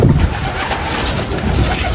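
Young racing pigeons coo steadily in a loft, a dense continuous murmur of overlapping calls filling the whole moment with no pauses.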